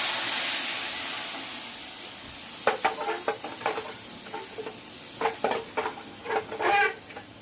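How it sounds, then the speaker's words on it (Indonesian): Rice vermicelli frying in a home pan with shallot, garlic and candlenut paste, a soft steady sizzle under a string of scraping and stirring knocks that come in irregular clusters and grow busier toward the end. "Sekarang kita masak bihunnya ya bun ya, goreng bihun."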